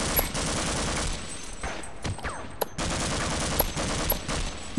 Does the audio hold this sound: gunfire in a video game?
yes